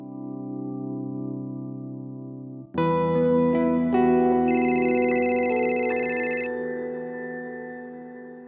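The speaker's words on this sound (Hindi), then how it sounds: "फरहान साहब, वो फोन आ गया" An electronic phone ringtone plays at an indoor household setting in a television drama, a steady tonal melody that shifts pitch partway through, with bright layered chimes swelling then fading.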